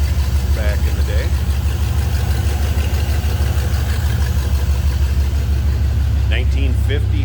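A 347 V8 in a 1957 GMC 100 Stepside pickup idles smoothly with a steady low, even rumble throughout, while a person talks briefly near the start and end.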